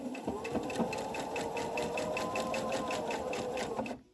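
Sewing machine running steadily for about four seconds, stitching fabric along a curve for a reversible ladies' scrub surgery cap, with a fast, even mechanical rattle that stops abruptly at the end.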